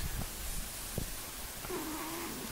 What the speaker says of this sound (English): Cooper is my kitty cat.